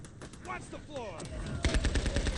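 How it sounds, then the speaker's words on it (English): Video game machine gun fire, a rapid stream of shots that turns louder and denser near the end, heard over game sound effects and a voice. "Machine guns overtake every other kind of weapon in this game by a landslide."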